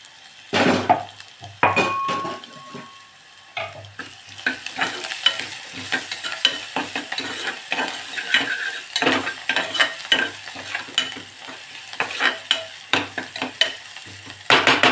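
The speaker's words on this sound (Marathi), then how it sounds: "कांदा आलं लसूण परतला आहे" Onion, ginger and crushed garlic sauté in a pan for a spicy crab curry, a steady sizzle broken by frequent scraping stirs and metallic clinks of a spoon against the pan, close and fairly loud, with no talking.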